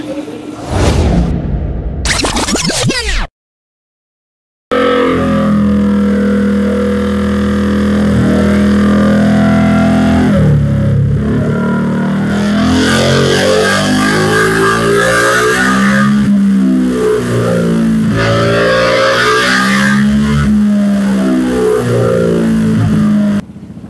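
Remapped Honda PCX 160 scooter accelerates hard toward top speed, its engine note climbing and wavering over steady wind rush after a brief clatter and a moment of silence, with faint talk early on.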